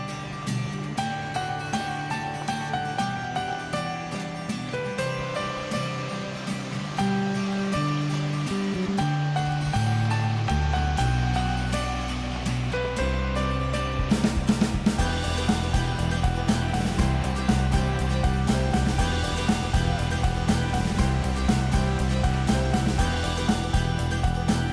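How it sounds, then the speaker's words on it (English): The Sathodi Falls in Karnataka, fed by several streams and cascading from about 50 feet, give off a steady, full rush of water that is partly covered by music playing throughout. "Sathodi Falls are formed by several streams and cascades down from a height of 50 feet."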